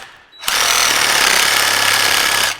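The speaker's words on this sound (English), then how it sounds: "And you're going to come in here with a Sawzall" A Sawzall reciprocating saw cuts through the outer ring of a radius arm bushing on an 80-series Land Cruiser, starting abruptly after a quiet moment and buzzing loud, harsh and continuous up close for about two seconds.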